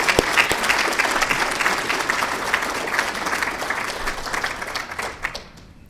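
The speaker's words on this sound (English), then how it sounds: "So if you would join me in a round of applause for Jen." A luncheon audience at a hall of fame induction gives a sustained round of applause, dense and fairly loud with many hands clapping at once, tapering off in the last second.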